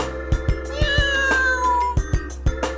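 A cat in the video game Trails in the Sky FC gives a drawn-out meow over game music and crisp percussive hits, loud and close.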